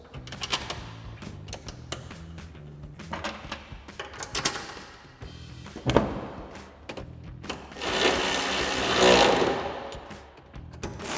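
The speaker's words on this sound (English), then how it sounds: "put it into place and we can reinstall our two 10mm bolts" Two 10mm bolts are reinstalled on a 2016-2023 Toyota Tacoma tail light, with quick ratcheting clicks, taps and metallic handling noises in short bursts, ending in a longer whirring stretch.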